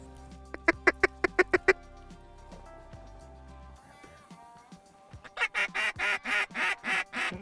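Wigeon ducks call over a water hole at a wheat-field hunt, first a quick run of about eight sharp quacks, then a lull, then a louder series of roughly ten rhythmic honking calls close by.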